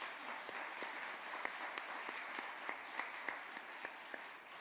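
An audience in a church during a Catholic Mass gives a round of applause, a faint, distant, even patter of many hands with a few sharper individual claps standing out, and no voices over it.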